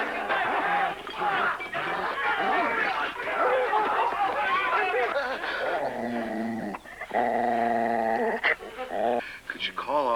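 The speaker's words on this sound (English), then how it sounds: "Could you call off your dog?" A dog growls and snarls close up, a rough, rumbling growl broken by whimpers and yips, steady and agitated throughout.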